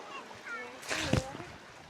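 A small splash as a flat stone skips across water at a beach, followed by quieter patters, with faint voices in the background outdoors.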